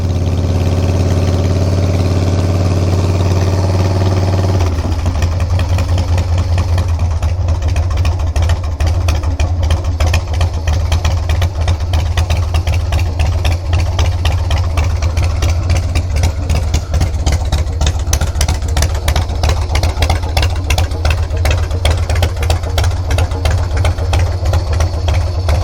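A Harley FXR motorcycle engine idles loud and close, a deep steady rumble that shifts after a few seconds into a choppier, lumpier beat with rapid firing pulses, no voices.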